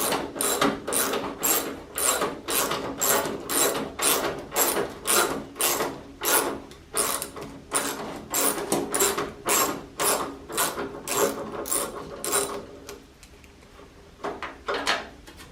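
A hand ratchet works bolts loose from a Farmall Super A tractor grill in a garage, clicking in a steady rhythm of about thirty loud, close strokes before slowing and stopping.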